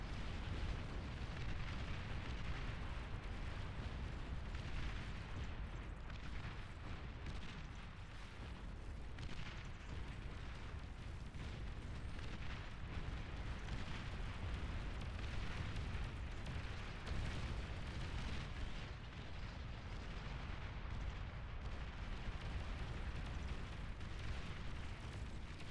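Rumbling explosions from bombing runs in the real-time strategy game Beyond All Reason during an 8v8 match, a dense, continuous wash of booms and blasts that stays loud and unbroken throughout.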